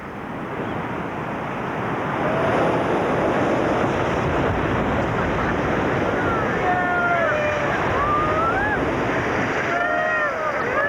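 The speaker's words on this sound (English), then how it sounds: "The rapids seem to alternate, a hard one, then an easy one." Rushing river rapids roar under a raft in Ethiopia, a loud, continuous wash of churning water with wind noise, while several people shout and call out over it.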